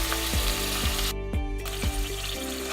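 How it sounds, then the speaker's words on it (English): Canned tuna with its oil sizzling in a hot pot, a steady loud crackling fry close up with recurring low thumps from stirring and no talking. "Now that I got a nice hot clean pot, I'm going to add my tuna with oil"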